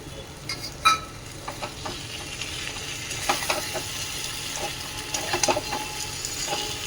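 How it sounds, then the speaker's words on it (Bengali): Cauliflower and potato sizzling in a spiced masala, with a continuous frying hiss and repeated scraping strokes from stirring, close and moderately loud. "মশলাটা ভালো করে কষে নিচ্ছি আর এর মধ্যে দিয়ে দিলাম ফুলকপি আলু"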